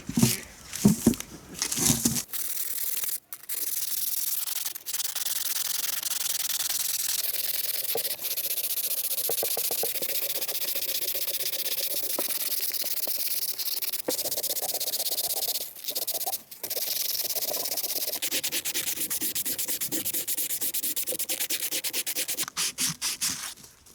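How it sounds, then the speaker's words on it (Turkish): Close, sustained 180-grit sandpaper rubbing against a metal brake caliper in long, even strokes, with a few short breaks and handling knocks at the start. "180 ile zımparalamamız da bitti."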